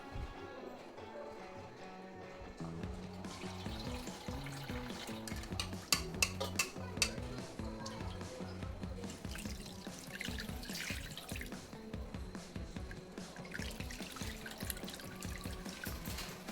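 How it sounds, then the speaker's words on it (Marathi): Barnyard millet (vari) is washed in water in a vessel, with continuous swishing, splashing and dripping alongside a steady tonal background. "अशा प्रकारे ही वरी आपण धुवून घ्यायची"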